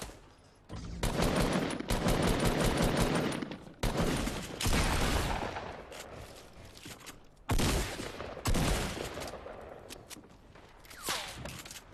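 Gunfire in the mobile battle royale game PUBG Mobile, including sniper fire: bursts of rapid automatic shots and sharp single cracks that come in several loud clusters separated by short quieter gaps.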